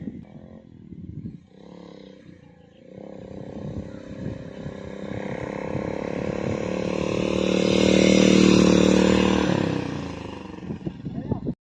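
A motorcycle climbs uphill on a jungle trail, its engine note swelling loud and close before easing off, with some clatter and voice mixed in.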